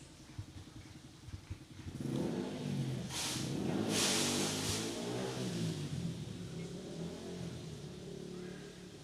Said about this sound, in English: We hear the 155C liquid-cooled engine of the go-kart rode past us.